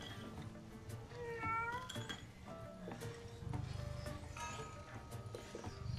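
A cat meows in the video game Hello Neighbor 2, giving a few short rising calls over steady game background sound and light clinking.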